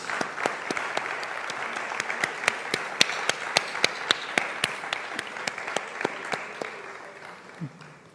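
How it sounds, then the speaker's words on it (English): An audience at a conference event applauds, a crowd of clapping hands overlaid with one loud, rhythmic clapper close by striking evenly about three times a second before the applause tails off. "Let's give them a big round of applause."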